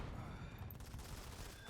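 Grenade explosions and gunfire in a Modern Combat 5 PC match form a dense, continuous rumble of blasts with no clear gaps, mixed with commentary talk and staying fairly loud throughout.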